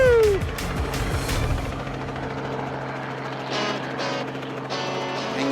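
A helicopter flies with its rotor beating steadily and loud, close up and continuous for several seconds, with a brief burst of wind and movement early on; no clear talk.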